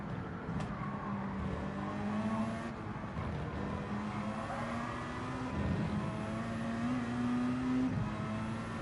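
Race car engines in Gran Turismo 7, Gr.3 cars at Road Atlanta, drone steadily with rising and falling revs as gears shift, a continuous moderately loud pack sound without talk.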